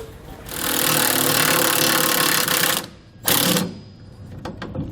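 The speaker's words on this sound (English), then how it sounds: "We'll use a 14mm socket to tighten it down." A power tool drives a self-tapping screw with a 14mm socket while installing a Roadmaster Comfort Ride leaf spring suspension kit on a 2013 Dutchmen, giving a loud, steady whirring buzz for several seconds, then a brief second burst.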